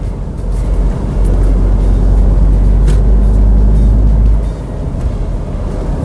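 A Peugeot 2008 Griffe SUV with a 1.6 THP turbo engine and automatic gearbox pulling through the gears, a loud, steady low engine drone heard from inside the cabin that eases slightly near the end.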